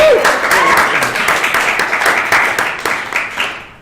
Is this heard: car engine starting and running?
no